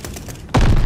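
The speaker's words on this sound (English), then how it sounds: "They're sending mortar shells!" A mortar shell lands in the Call of Duty Vanguard video game: a low, rumbling background is suddenly broken by a single heavy, booming blast that stays loud to the end.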